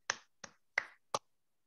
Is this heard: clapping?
yes